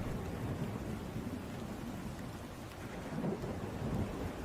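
Steady heavy rain pours down through a thunderstorm, with low rolling thunder rumbling underneath; a dense, constant wash of sound with no voices.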